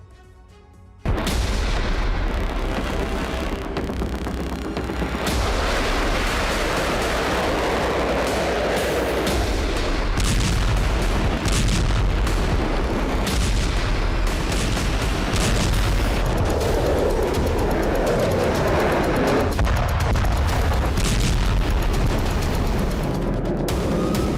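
Heavy explosions from an air strike boom one after another, loud and close, with rumbling blasts and crackling debris filling the whole stretch without any talking.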